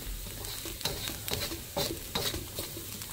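Soft, steady sizzling of grated daikon and other ingredients frying in a pan for turnip cake, with faint crackles and a few stirring scrapes recurring every half second or so.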